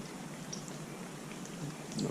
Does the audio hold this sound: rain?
yes